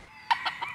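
A gamefowl rooster gives short, close clucking calls, three or four quick bursts against a faint steady background hum with no talking.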